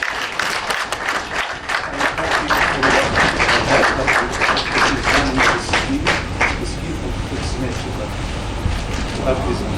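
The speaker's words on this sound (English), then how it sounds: "Let's appreciate and applaud His Excellency for accepting that gift" Delegates at a trade union congress give the President a sustained burst of applause for accepting a gift, dense clapping filling the room steadily with no pause.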